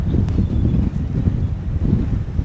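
Steady, blustery wind along a UK cliff edge buffets the microphone with a low rumbling roar that never lets up.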